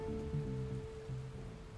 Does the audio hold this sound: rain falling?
yes